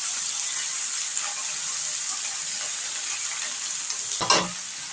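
Cabbage and eggplant being stirred as they fry in a pan: a steady, soft sizzling hiss, with a brief clatter of the utensil near the end and no voices.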